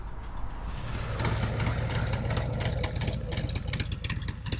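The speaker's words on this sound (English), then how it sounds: "So this isn't one of the louder motorcycles, but it actually sounds great. Good idle." A motorcycle with a Woods WM8-22XE cam, S&S Grand National pipes with reducers and a stock head pipe idles close by. A steady, lopey pulsing rumble holds at an even level throughout.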